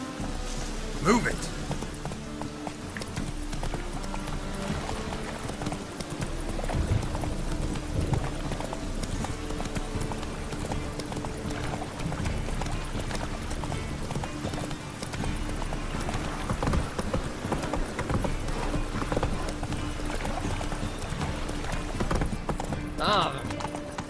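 Steady clip-clop of horse hooves trotting along in The Witcher 3: Wild Hunt, continuing through most of the stretch while someone talks over it.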